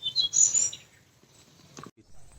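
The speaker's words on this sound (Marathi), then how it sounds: "मस्त वाटतं एकदम पक्ष्यांचा आवाज भारी एकदम" A few quick, high bird chirps at the start in a rainy Konkan forest, then near quiet with soft background rustle.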